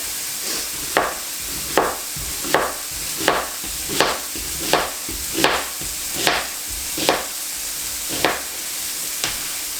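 Cubed steaks frying in a pan, a continuous sizzle broken by about a dozen regular, evenly spaced scraping strokes of a utensil across the pan surface.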